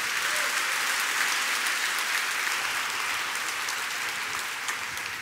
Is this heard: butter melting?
no